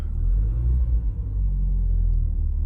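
A Peugeot 505 Turbo engine idles just after starting, a close, steady low rumble with a slight uneven throb and no voices over it.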